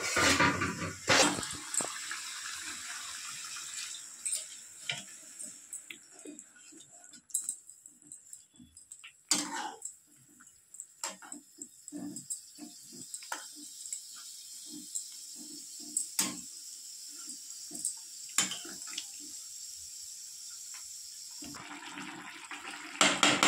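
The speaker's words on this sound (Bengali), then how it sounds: "এই যে এখন আমি মাছের জল দিয়ে দিচ্ছি" Water poured into a pan of fish for a home-cooked Bengali fish curry, a steady close splash and trickle with small clinks and ticks of utensils, no talking.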